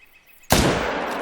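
A single loud Magnum hunting rifle shot in theHunter Call of the Wild, a sharp sudden blast out of near quiet that rolls into a long, sustained echo.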